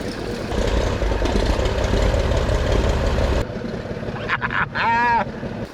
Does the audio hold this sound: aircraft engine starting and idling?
yes